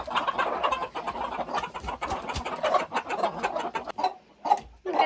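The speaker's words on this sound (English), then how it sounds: "We got the chickens fed." Homestead chickens, including silkies and bantams, cluck busily and overlap while being fed, with several sharper individual calls near the end, fairly close and without talk.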